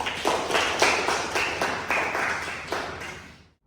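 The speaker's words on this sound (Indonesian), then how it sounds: "Aplaus untuk Ines." Classroom applause for a student during a patient and workplace safety lecture: a short burst of many hands clapping in a dense, steady patter that fades out after about three seconds, with no talk over it.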